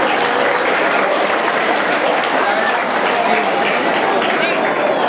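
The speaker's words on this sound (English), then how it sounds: "How about one more quick applause for all of their hard work these last few weeks." A crowd at an elementary school music concert fills the room with a dense, sustained wash of applause that holds steady and loud throughout, with a faint murmur of voices mixed in.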